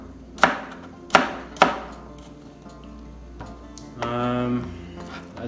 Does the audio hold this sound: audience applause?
no